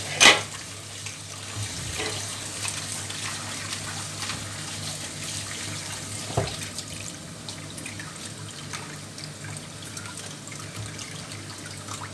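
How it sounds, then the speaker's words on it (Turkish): Tap water runs steadily into a sink while dried eggplant is rinsed by hand, a continuous close splashing trickle with a few sharper clatters near the start and middle, no talking. "Hala yıkadıkça böyle siyah suyu çıkıyor."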